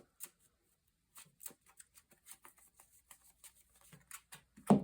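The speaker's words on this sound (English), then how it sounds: "Shuffle that." A deck of cards in a board-game playthrough shuffled by hand: a quiet string of soft, close riffling clicks and flicks in uneven bursts, ending with a louder rustle, no talking.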